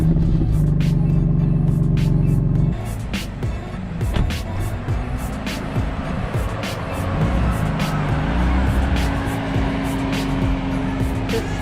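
A warmed-up BMW F80 M3 with a stage 1 tune fires up and settles into a deep, loud, close rumbling idle, with a sharper opening burst before the steady burble continues.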